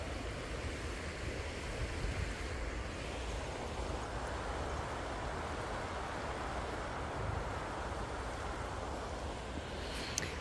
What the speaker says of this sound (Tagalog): Nare-relax kasi ako sa tunog ng sa agos ng ilog.